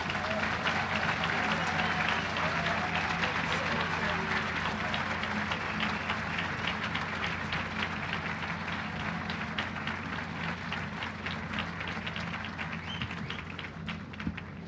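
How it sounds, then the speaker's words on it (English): At a medical school white coat ceremony, a large audience applauds the new students in a long, even roll of many hands clapping, sustained for about fifteen seconds with a low hum beneath and no speech over it. "One round of applause for all of our students"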